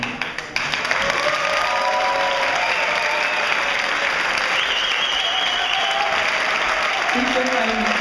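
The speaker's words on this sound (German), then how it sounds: "Bitte einen großen Applaus für uns alle, für die ganz vielen Musiker, die von weit her angereist sind." Concert audience at a brass fanfare event applauding, a dense, sustained wash of clapping that holds steady and loud from start to finish, with faint tonal sounds drifting beneath it.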